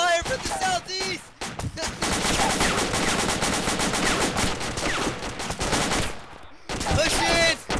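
Sustained automatic gunfire in the military video game ArmA II, a dense, loud stream of rapid shots that pauses briefly near the start and end.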